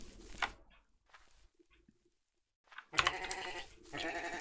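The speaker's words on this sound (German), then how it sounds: "Diese Schafe, ne?" Sheep in the MineClone5 Minetest video game bleat in short separate calls amid quiet gaps, followed by a louder burst of bleating near the end.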